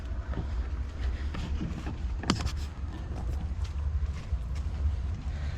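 Persistent wind buffets the microphone beside a fishing lagoon at Palm Tree Lagoon in Thailand, a steady low rumbling roar that never lets up, with faint rustling and knocks mixed in.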